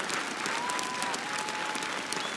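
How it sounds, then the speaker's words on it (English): A biathlon crowd at the Stockholm Challenge race in Sweden claps steadily, a dense, even wash of applause filling the whole moment, with a faint tonal whistle-like sound drifting over it. "And so the applause begins to climb"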